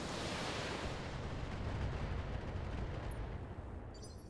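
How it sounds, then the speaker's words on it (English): A dense, roaring barrage of LRM missile fire aimed at a Locust mech in the Battletech game pours out continuously for several seconds, loud and rumbling, with no talk over it. "let's just spread some LRM fire between the Locust"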